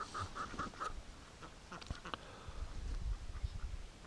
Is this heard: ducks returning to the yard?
yes